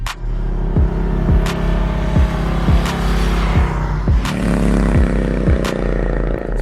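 A 2020 Harley-Davidson Low Rider S rumbles along Angeles Crest Highway, its deep engine drone loud and close with regular surging pulses as it accelerates.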